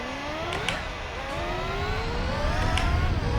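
Race car engine in Gran Turismo 4 revving and climbing through second gear, rising whine that sweeps upward several times over a steady low rumble, loud and close.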